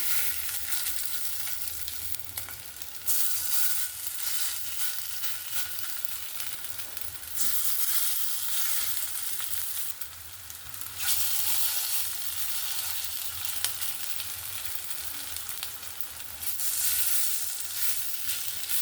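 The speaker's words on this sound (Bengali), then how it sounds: "এখানে আমার তেলটা ভালোভাবেই গরম হয়ে গেছে এবার আমি হাতে একটু একটু পরিমাণ নিয়ে যেরকম বড়া তৈরি করি সেরকমভাবে একটু চাপটা করে এরকম আমি বসিয়ে দেবো" Small shrimp fritters, kucho chingri bora, sizzle steadily in hot oil, a loud close crackle that swells in several waves as more pieces go into the pan.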